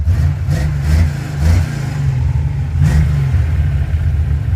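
A car engine with a newly fitted Edelbrock 1405 carburetor revs up in a few smooth, loud throttle blips over a steady running idle, close by and without talk.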